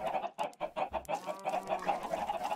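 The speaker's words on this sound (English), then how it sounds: "Lots of chickens now." Chickens cluck in a video game, a quick run of soft repeated clucks and chirps sounding in close succession, faint and alone.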